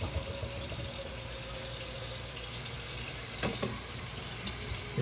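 Water runs steadily from a kitchen tap into a cooking pot, a continuous close rushing with faint clinks from the pot, and no talk.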